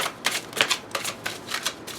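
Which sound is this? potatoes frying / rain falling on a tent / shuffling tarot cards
shuffling tarot cards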